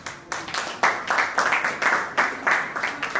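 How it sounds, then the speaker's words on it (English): An audience at a book release soirée claps in uneven bursts, a ragged rhythm of hand claps rising and falling over a few seconds, fairly close and unaccompanied by speech. "Thank you for that clap"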